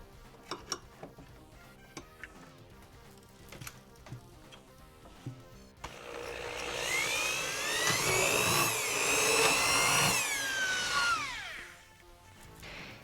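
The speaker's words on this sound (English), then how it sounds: "then we'll drill them." Power drill boring holes in a pinball machine backbox, starting after a run of faint ticks and building to a loud, whining drone that rises and falls for several seconds before stopping.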